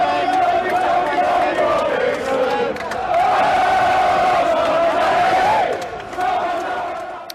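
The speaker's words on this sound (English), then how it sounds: "Every few minutes here, Tommy Robinson's name is being sung by the crowd" A large crowd at a Football Lads Alliance march chanting Tommy Robinson's name, a loud sustained massed chant of many voices rising and swelling together outdoors before tailing off at the end.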